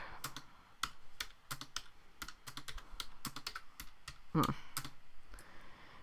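Rapid, close keystrokes on a computer keyboard as code for a Python web-scraping script is typed, an uneven patter of clicks with short bursts and brief pauses.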